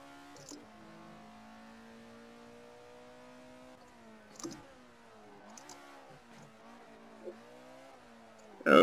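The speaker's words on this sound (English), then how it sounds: "I guess this car really needs high revs." A race car's engine in the Assetto Corsa driving game holds a steady high-revving drone, with pitch shifts and short gear-change blips, and a brief louder burst at the very end.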